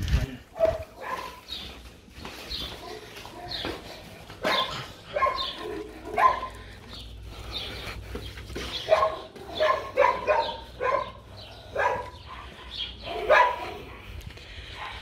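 Several dogs bark repeatedly at an animal shelter in Spain, sharp overlapping barks and yips near and farther off, with some whimpering, while people talk quietly among them.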